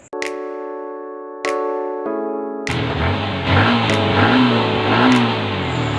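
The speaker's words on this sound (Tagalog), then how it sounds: "i-start natin para ma-warm up natin itong motor" Several beeps, then a motorcycle engine starts and settles into a steady idle, revving up briefly a few times as it warms up before an oil change.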